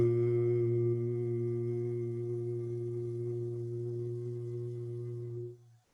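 A person hums a single sustained, low 'voo' tone to imitate a foghorn, a steady buzzy drone held for about five seconds before it fades out.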